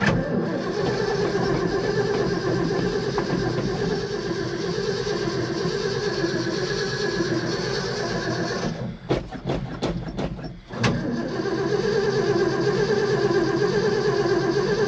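A 1972 Ford F-250 cranks in a long, loud, continuous starter drone, broken by a brief stutter of clicks and pauses before the cranking resumes steadily.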